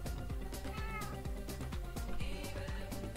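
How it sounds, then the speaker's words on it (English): A cat meowing in Minecraft, several short mews at a steady pace, heard over looping background music and other sounds. "Okay, where is the cat?"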